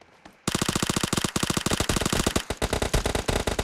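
Automatic gunfire in the PUBG Mobile video game erupts abruptly into long rapid bursts, loud and close, with short pauses between strings of shots and no talk over it.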